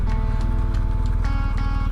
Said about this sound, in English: And right outside they got the horses.